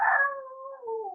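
A person imitates a barnyard animal, a dog-rooster mix, with one short falling howl-like vocal cry that trails off, heard alone and close.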